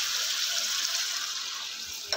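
Water pours into a pot of chicken cooking for yakhni pulao, a steady loud hissing rush that sounds close and continuous, with no voices.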